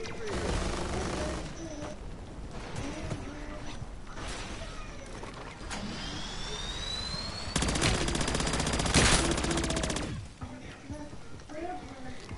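Bursts of automatic weapon fire and mechanical clatter in MW3 Zombies, rapid rattling volleys with one dense loud burst in the middle, mixed with other game effects under occasional talk.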